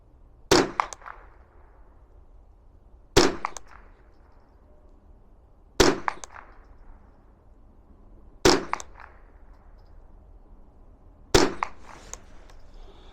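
Five sharp gunshots from budget subsonic ammunition ring out alone at an outdoor range, evenly spaced about two and a half seconds apart, each a loud crack followed by a short echo.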